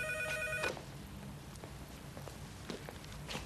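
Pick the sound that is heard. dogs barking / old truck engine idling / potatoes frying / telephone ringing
telephone ringing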